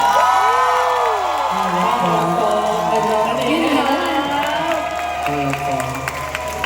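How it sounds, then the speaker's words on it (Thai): A crowd cheers and claps after a Thai wai khru ceremony performance, with whoops and shouting voices layered over steady, dense applause that holds loud for the whole stretch. "ขอเสียงปรบมือให้กับพี่เขยของหนู และก็พี่สาวคนโตด้วยค่ะ"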